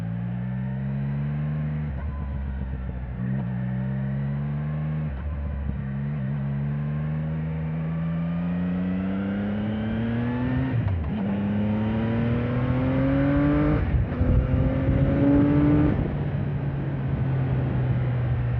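A Triumph-style 675 naked motorcycle engine revs loudly and continuously, pitch rising and falling through several downshift blips with sharp rev spikes, close and dominant with no talking.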